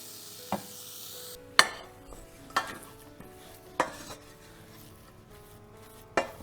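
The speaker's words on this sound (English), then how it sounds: "take this back to heat and stir for like a minute so it dries out and a film forms at the bottom of the pan" Choux paste is stirred in a pan over heat to dry it out, giving a soft scraping rub with a few sharp knocks of the utensil against the pan, close and otherwise quiet.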